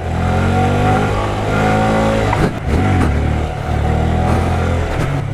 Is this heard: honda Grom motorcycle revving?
yes